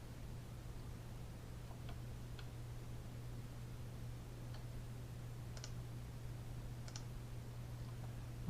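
A computer mouse clicking in an office, a few sparse, faint clicks over a quiet background hum.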